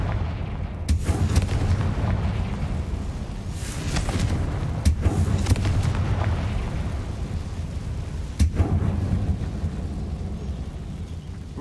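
Confringo fire-blast spells in Hogwarts Legacy go off as several sharp explosive bursts, spaced a few seconds apart, over a continuous deep rumbling background.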